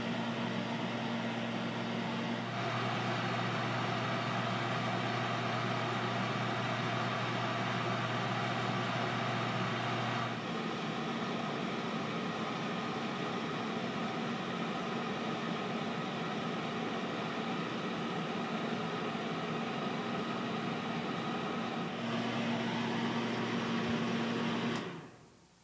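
A small 1999 Boston personal fan with a light blade set hums steadily at close range, its motor tone shifting partway through, then cuts off and spins down briefly near the end.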